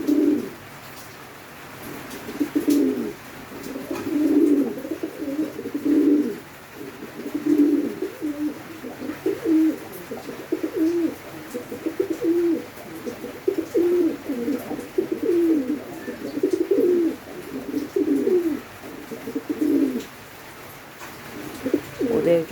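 Pigeons in a pigeon house coo nearby in a steady run of low, rhythmic, repeated calls, with faint room noise behind them.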